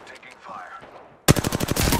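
Rapid automatic gunfire from Apex Legends erupts suddenly after a stretch of quieter in-game ambience, loud bursts of shots close up continuing to the end.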